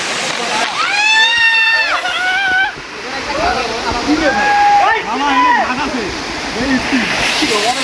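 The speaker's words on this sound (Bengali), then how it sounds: "এইটা হচ্ছে নাপিতা ঝর্ণার একদম প্রথম ঝর্ণা" The first cascade of the Napittachora waterfall, its continuous rushing water heard steadily behind loud nearby talking that covers most of the clip.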